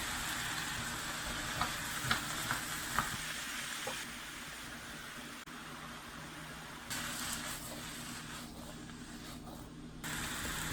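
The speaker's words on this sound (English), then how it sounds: "Add the onions and sweat them until soft." Onions, carrots, celery and green pepper sweat in oil over medium heat, giving a continuous soft sizzle and hiss with a few faint clicks and stirs, no voices.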